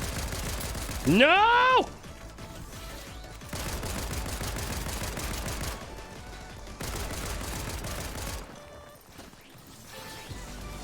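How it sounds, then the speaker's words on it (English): Airstrike gunfire in a video game arrives as repeated bursts of heavy rattling fire separated by short gaps, with one rising whine near the start. An excited player's voice cries out over the barrage. "Oh, that's an airstrike."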